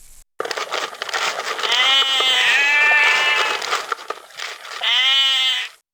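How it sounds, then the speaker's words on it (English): Sheep bleat loudly and close by in the 1994 Windows game Lassie: Interactive Moviebook, two long wavering cries with a short pause between them, no talking. "the Garlands had been using the Turners' property to graze their sheep"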